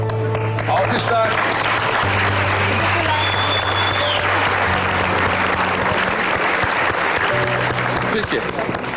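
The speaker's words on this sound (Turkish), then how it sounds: "Alkışlar." A studio audience at a Turkish television singing competition breaks into steady, loud applause that fills the room throughout, with a host's voice and background music running underneath.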